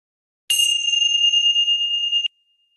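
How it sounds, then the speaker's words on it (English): A single bright chime bell struck once, ringing a clear sustained tone for nearly two seconds before cutting off. "listen to the chime until it stops"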